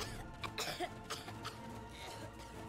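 Characters in Star Trek Online cough repeatedly in short, harsh bursts over a steady game background hum, with no talk.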